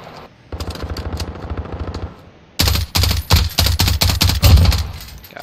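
Rapid automatic gunfire rattles through a Call of Duty Modern Warfare hardcore team deathmatch, a quieter steady burst first, then louder, closer bursts of fire in quick succession with short gaps, and no speech.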